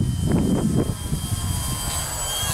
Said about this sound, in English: This is so easy to film, eh, this plane.